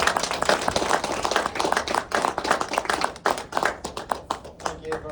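Conference audience clapping to welcome a speaker, a brief burst of close, sharp handclaps with an uneven rhythm and faint voices underneath.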